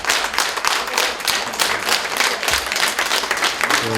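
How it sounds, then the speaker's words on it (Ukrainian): Hospital staff applauding their chief physician, a collective round of clapping with distinct hand strikes in a steady, lively patter throughout, close and alone. "вот те аплодисменты, Николай Николаевич, это вам аванс, конечно же, от коллектива"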